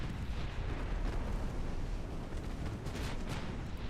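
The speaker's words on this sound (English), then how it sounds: "Torpedo detonation" A torpedo detonation in a naval warfare video game, a dense, continuous roaring rumble with crackling bursts that holds steady throughout.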